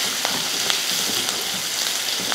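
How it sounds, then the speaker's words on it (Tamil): Onion, green chillies and curry leaves sautéing in hot oil, a loud dense sizzle with faint crackles and light stirring, close and continuous. "நம்ம லைட்டாக வதக்கிக்கிட்டால் போதும்."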